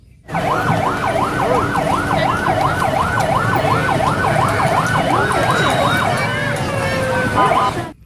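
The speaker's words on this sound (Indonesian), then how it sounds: "di sini ada mobil-mobilan polisi" A loud, fast-wailing electronic siren from a toy police car, rising and falling repeatedly for several seconds, close by, with faint talk under it.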